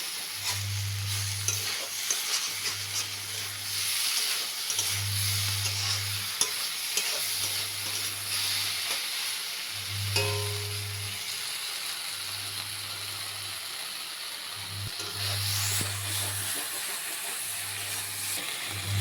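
Ilish fish with dalbari and flat-bean (sim) curry being sautéed in low oil, giving a steady close sizzle and hiss with a rhythmic, repeating low hum beneath it throughout.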